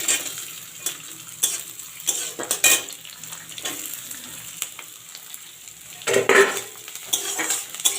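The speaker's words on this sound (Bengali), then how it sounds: "পেঁয়াজটাকে একটু আমি রং ধরে ভেজে নেব।" Chopped onion fries in a pan after minced garlic has browned, a steady sizzle broken by repeated scrapes and clinks of a spatula stirring against the metal, with no talking.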